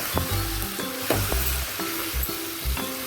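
Brinjal fry with spice powder stirred in a hot pan, sizzling steadily up close, with the spoon or spatula scraping in a loose rhythm and no voices.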